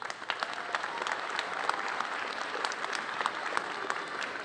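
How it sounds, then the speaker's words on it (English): Steady, dense applause from an audience at a middle school eighth-grade promotion ceremony, many hands clapping continuously at a moderate distance with a faint crowd murmur underneath. "Give them a round of applause"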